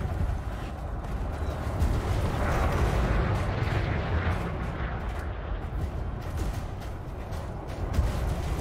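Spaceship weapons firing at an enemy in Elite Dangerous: a continuous roaring, rumbling barrage with dense noisy texture, fairly steady in loudness with a slight swell midway and a small thump near the end.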